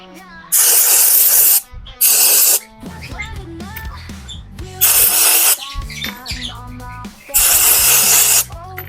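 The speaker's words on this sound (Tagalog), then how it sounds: "Pati po yung disc, pwede nyo pong sprayan yan." Cleaner sprayed onto a Dynamax motorcycle's front disc brake in four loud, close hissing bursts of about one second each, with someone talking in the gaps between them.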